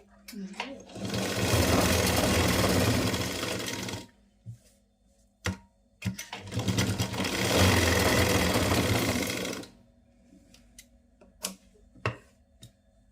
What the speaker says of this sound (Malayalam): നമുക്ക് ഇതിൻ്റെ മേളിൽ കൂടെ ഇങ്ങനൊരു സ്റ്റിച്ച് ഇട്ട് കൊടുക്കാമേ